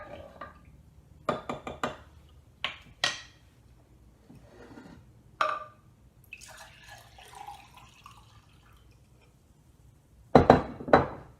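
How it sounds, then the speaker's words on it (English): Spoon stirring a switchel ginger drink in a glass, giving a few sharp clinks and short scraping bursts separated by pauses, ending in a louder cluster of taps, close and fairly quiet with no talk. "You want to stir it up once again because the ginger might float to the bottom. So give it a little stir."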